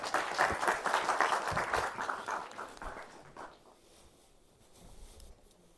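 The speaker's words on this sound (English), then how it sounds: "Please give a big round of applause to Dr." Audience applause welcoming a speaker at an academic talk on apple genetics, a moderate burst of clapping that thins and fades after about three seconds, leaving quiet room tone with a few faint scattered sounds.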